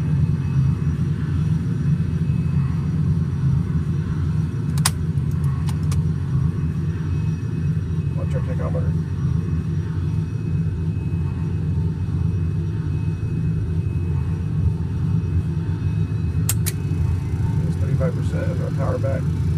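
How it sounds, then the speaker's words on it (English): Two Sabreliner jet engines running after start-up, heard as a steady loud low rumble and whine throughout, with a few brief clicks; people talk over it. "Alright, we've got both engines alive."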